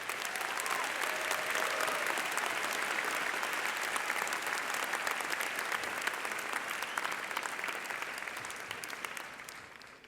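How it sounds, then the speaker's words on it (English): Engineering graduates at a Berkeley commencement ceremony give their families a long round of applause, a dense sustained wash of clapping from a large crowd that slowly thins near the end. "I'll ask that we graduates turn and give a huge round of applause to our families"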